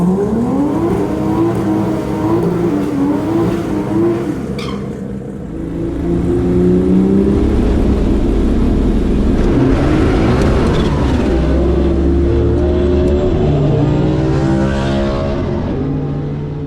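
Race car making a full pass down a drag strip, engine roaring loudly with rising revs and gear changes, the note climbing and holding near then fading slightly at the end.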